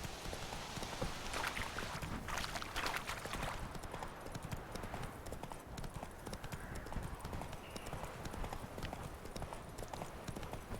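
Roach, the horse in The Witcher 3, gallops with steady, quick hoofbeats that carry on throughout, alongside faint gameplay ambience. No one speaks over it.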